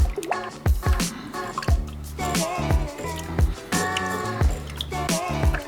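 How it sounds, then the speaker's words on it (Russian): Yeast being stirred into a rye-flour whisky mash, with wet sloshing, dripping and squishing in steady, close strokes that fill the whole stretch. "перемешиваю дрожжи"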